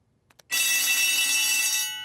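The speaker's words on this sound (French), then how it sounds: "Nous avons entendu l'alarme." Loud, shrill school fire alarm bell ringing continuously for about a second and a half after a couple of soft clicks, then cutting off abruptly, with no talking.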